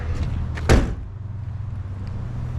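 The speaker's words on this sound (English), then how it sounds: "Let me show you guys under the hood actually." Hood of a Mazda Miata drift car being opened, a single short clunk of the latch and panel up close, followed by a low idling engine hum.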